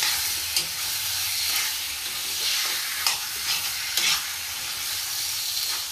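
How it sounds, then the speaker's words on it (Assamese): Local chicken and green peas frying and being stirred in a pan: a steady close sizzle with repeated scraping stir strokes throughout, and no talking. "এতিয়া এইখিনি আপোনালোকে অলপমান ভাজি লৈ"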